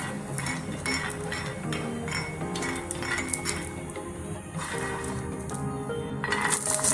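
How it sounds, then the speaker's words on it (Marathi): Peanuts roasting on a tawa griddle for spicy paneer thecha, with a continuous dry rattle and clinking as they are stirred and tossed against the metal pan, fairly close and steady throughout. "आता आपण हे शेंगदाणे तव्यावर भाजून घेणार आहोत"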